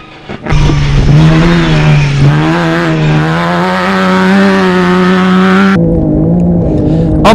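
A classic Toyota Land Cruiser racing in the Kameel 500 off-road rally, its engine roaring loudly up through the revs close by, holding a strained high pitch before dropping off sharply near the end.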